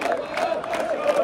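Vélez supporters in a football stadium crowd during a Flamengo match raise a brief, somewhat distant roar of massed chanting voices with a sustained, droning tone.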